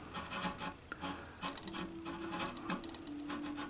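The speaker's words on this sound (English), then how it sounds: "There's a black piece. I'm trying to saw through it" A small saw rasps through black plastic binding beside white celluloid binding on a Yamaha FG230 acoustic guitar during a neck reset, giving repeated close back-and-forth scraping strokes at a quiet level.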